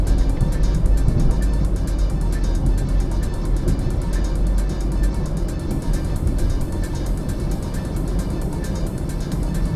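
Car driving straight along a Bangkok road toward an overpass near the Tha Phra junction, a loud continuous engine and road rumble heard from inside the vehicle, steady throughout with no talk.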